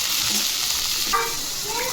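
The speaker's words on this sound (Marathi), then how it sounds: "तेल गरम झालं, त्यामध्ये आपण आता हे जिरे मोहरी टाकू। आता लसूण टाकू, कोथिंबीर, पालक टाकून आता 2 मिनिटं परतून घेऊ।" Spinach, garlic, cumin and mustard seeds sautéing in hot oil for a dry Maharashtrian palak bhaji, giving a steady close sizzle and hiss with soft stirring noises and no talk.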